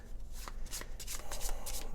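A deck of game cards being shuffled by hand, a run of crisp riffling bursts and soft flutters repeating close to the mic with no voices.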